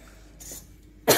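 Person coughing once, a single short, sharp cough close to the microphone at the end of a quiet moment, preceded by a faint breathy throat sound.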